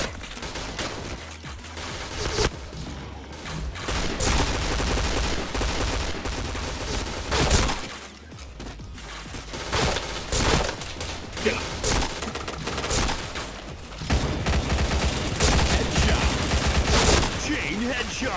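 Rapid bursts of gunfire in a shooter video game crackle almost continuously, with dense fusillades and single shots, while a player talks over the action.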